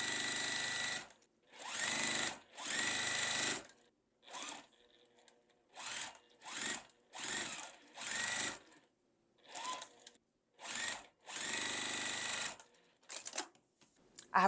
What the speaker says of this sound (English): So what I'm doing now is sewing this B piece.